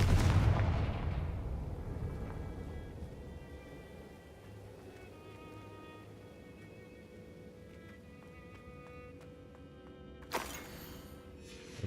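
A Confringo blasting spell explodes in Hogwarts Legacy with a loud boom at the start that fades into a long rumbling tail, followed by quiet game ambience and a sharp crack near the end.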